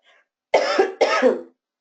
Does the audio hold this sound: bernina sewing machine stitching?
no